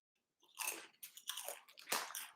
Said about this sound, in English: The chewing is loud, or the bag is loud.